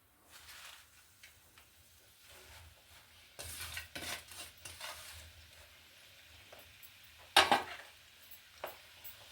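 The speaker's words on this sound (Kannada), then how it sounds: "ನೆಕ್ಸ್ಟು ಮೆಂತ್ಯ ಸೊಪ್ಪನ್ನ ಎಣ್ಣೆಲಿ ಬಾಡಿಸ್ಕೋಬೇಕು." Fenugreek leaves sauté in hot oil, a soft sizzle under the scrape and clink of a spatula stirring against the pan, with one sharper metallic clatter near the end.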